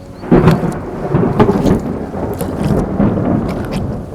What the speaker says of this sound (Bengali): এমন সময় ভয়ঙ্কর শব্দে বাজ পড়ল কোথাও